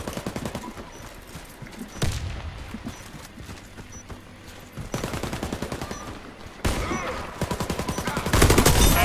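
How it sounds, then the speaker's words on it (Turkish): Bursts of rapid automatic gunfire from a video game, several rattling volleys separated by short pauses, growing louder toward the end. "Benim silah sesi çok güzel değil."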